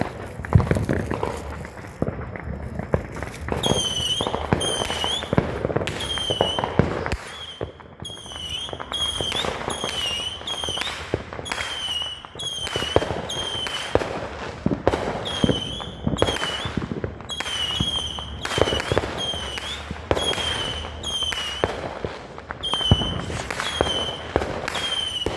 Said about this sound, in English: What if you can just light the Roman candles and just throw it?